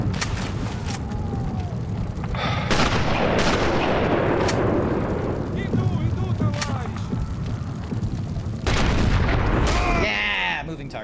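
Loud, dense gunfire and booming blasts in the World War II shooter Sniper Elite, with several sharp shots standing out over a rumbling battle bed, while a voice talks intermittently over the fighting.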